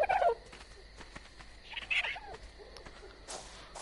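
Brief clucking chicken calls in the video game ARK near the start, with a second faint call midway, over quiet background noise.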